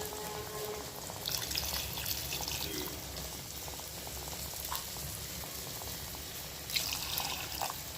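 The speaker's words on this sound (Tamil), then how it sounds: "தேவையான அளவு தண்ணி சேர்த்துக்கலாம்" Water pours and trickles into a pot, a soft, steady liquid splashing with a few louder bursts, no voices.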